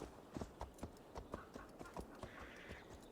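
Horse hooves clip-clop steadily along the ground in Assassin's Creed Valhalla, a moderately close, even rhythm of distinct hoof strikes over faint background ambience, with no talk.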